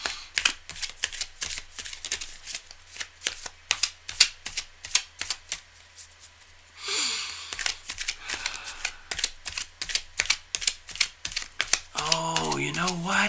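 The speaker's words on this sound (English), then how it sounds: "Cards are well shuffled." Playing cards are shuffled over and over in fast rapid clicking riffles, close and crisp, with a short pause partway through and a voice briefly heard near the end.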